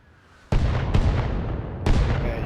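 Mortar rounds land in the Arma Reforger military game, three heavy booming impacts that each roll into a long rumbling decay, loud and fairly close.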